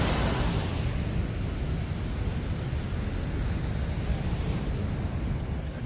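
Water outflow rushes from Hadagarh Dam in a loud, broad, unbroken roar of turbulent water, steady and close with some wind buffeting.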